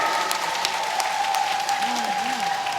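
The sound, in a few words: audience clapping loudly at a kavigan performance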